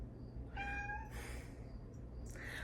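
Inside a parked car set up for car camping, a cat gives one short, clear meow close by, over a steady low background rumble, followed by faint rustling.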